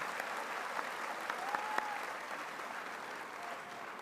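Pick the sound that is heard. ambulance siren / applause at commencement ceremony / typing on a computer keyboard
applause at commencement ceremony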